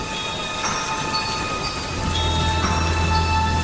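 Rain falls in a steady, continuous hiss in an animated horror story scene, with a low rumble rising under it partway through.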